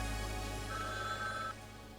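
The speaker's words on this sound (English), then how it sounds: "you can just go and wait for the phone call." A phone rings inside the Frog Detective video game, a steady electronic bell tone over a constant low hum, holding for about a second before cutting off.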